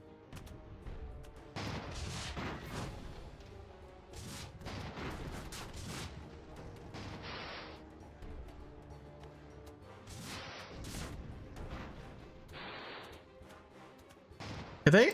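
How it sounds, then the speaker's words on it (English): Bombs dropping from an airship in the strategy game Airships: Conquer the Skies, heard as repeated sharp blasts and crashes spread across a long battle, with a louder burst right at the end. "I kind of want to try out my bombs on this guy"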